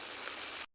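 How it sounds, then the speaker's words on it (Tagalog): Heavy rain pouring down on a rainy day at a Philippine cemetery during All Souls' visiting, a dense steady hiss of falling water, close and uniform, cutting off abruptly. "So ngayon napakalakas ng ulan."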